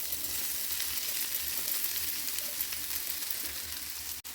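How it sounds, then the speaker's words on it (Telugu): Cooked rice tipped into a pan of frying vegetables for vegetable fried rice, giving a steady, close hiss of sizzling oil that holds throughout, ending on a sharp knock. "ఈసారి ఇందులో అన్నం వేసేసుకుందాం."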